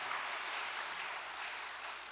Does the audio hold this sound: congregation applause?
yes